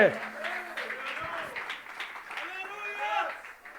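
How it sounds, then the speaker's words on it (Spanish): A church congregation at a night vigil service claps hands in rhythm beneath loud singing and speaking voices that dominate the sound. "Dele palmas al que vive, dele palmas al Señor."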